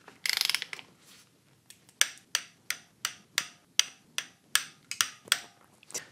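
Ratchet torque wrench tightening ARP head bolts on LS cylinder heads to 25 foot-pounds, a quick burst of clicks followed by about a dozen evenly spaced sharp ratcheting strokes, close and crisp.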